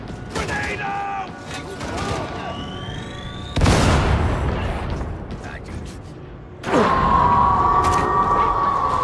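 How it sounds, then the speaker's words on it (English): Grenade blast in Warhammer 40,000: Darktide, a sudden loud broadband burst partway through, amid ongoing gunfire, combat clatter and a second heavy impact later, with game voices shouting over the fight. "Grenade out!"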